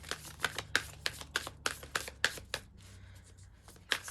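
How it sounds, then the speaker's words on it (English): Tarot cards being shuffled at close range in a series of quick, crisp riffling bursts at an even rhythm, with a short pause before one last burst, no voices. "I'm just going to get a couple more cards before we dive into this"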